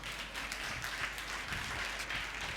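A church congregation at a Sunday service claps together, a dense, even patter of applause that stays steady and moderately distant for a couple of seconds.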